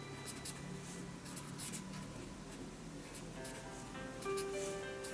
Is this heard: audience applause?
no